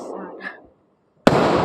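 Wedding fireworks: a voice and faint crackle first, then a brief quiet gap before a sudden loud bang that gives way to dense, sustained crackling.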